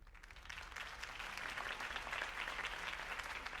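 Steady crowd applause rings out after a campaign speech in the Batman Telltale Series game, dense clapping and cheering filling the whole stretch at moderate volume with no voices over it.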